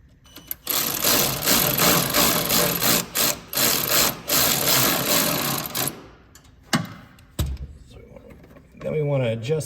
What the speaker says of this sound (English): then you can come in with a ratchet and a 11mm crescent wrench and tighten that up.